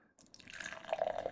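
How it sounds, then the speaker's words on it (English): Golden ale poured straight into a glass, a soft liquid gurgle building to a brighter fizzing splash near the end, close and fairly quiet. "Straight pour, get all that carbonated goodness going"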